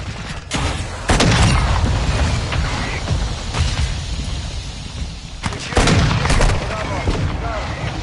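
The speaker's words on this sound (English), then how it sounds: "Our mortar strike is inbound." Mortar strike explosions in the video game Modern Warfare 2, a run of heavy booming blasts with dense gunfire crackle, louder bursts near the start and again midway, some voices faintly underneath.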